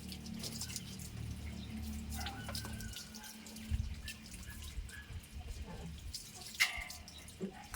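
Water splashes and trickles while dogs get a bath, with uneven drips and pours over a steady low background and a few louder splashes near the end; no one talks.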